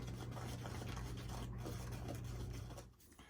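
A mixture being stirred in a clean glass mason jar, a continuous close rasping rub that runs steadily and then eases off near the end.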